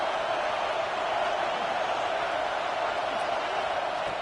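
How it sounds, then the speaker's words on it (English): A stadium crowd in the video game College Football 26, Texas Tech against LSU, roaring to urge the defense toward a red zone stop; a dense, unbroken wall of loud crowd noise. "And here comes the noise. This crowd is trying to inspire this defense to make a big red zone stop."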